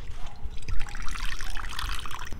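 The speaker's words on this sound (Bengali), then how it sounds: "জল দিয়ে দিচ্ছি" Water is poured into ground coconut paste while making coconut ice cream, giving a close, loud, bubbling and splashing trickle that runs steadily for a couple of seconds.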